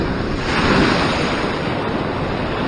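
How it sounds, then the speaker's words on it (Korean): Ocean surf breaking on a shore during sea fishing near Sydney, Australia: a continuous loud wash of waves with steady wind noise on the microphone and no talking. "다시 파도가 계속 이렇게 들이닥치니까"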